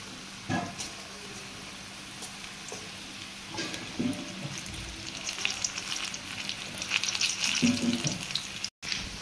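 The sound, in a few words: chickpeas frying in hot oil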